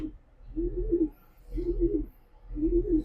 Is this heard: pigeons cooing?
yes